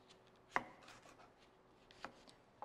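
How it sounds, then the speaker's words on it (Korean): A kitchen knife chops bell pepper into bite-size pieces on a cutting board, three sparse, sharp knocks spaced apart, close and fairly quiet. "파프리카 같은 경우에는 그냥 한 입 크기로 맞게 드시기 편하게끔 썰어주시면 되세요."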